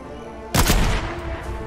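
A single sharp gunshot cracks out in the Fortnite video game. It lands suddenly over a quiet game background and leaves a short rumbling tail. No one speaks.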